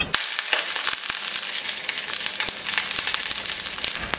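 Salmon fillets frying skin-down in a skillet over medium heat, a dense continuous sizzle with sharp crackling pops throughout, close and fairly loud with no talking.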